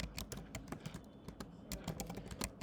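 Rapid, uneven keystrokes on a computer keyboard while code is being entered, close and crisp with brief pauses between bursts and no talking.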